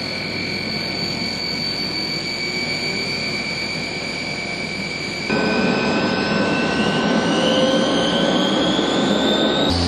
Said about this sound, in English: who can ever forget the sound of four darts or tines winding up?